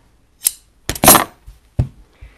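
Scissors cutting fabric for a faux Roman shade, a few distinct crisp snips and slicing swishes close by, separated by short quiet gaps.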